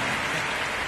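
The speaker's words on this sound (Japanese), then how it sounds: "皆さん温かい拍手をお願いいたします" A short, dense burst of audience clapping at a symphony orchestra concert, even and rain-like, heard alone without talk.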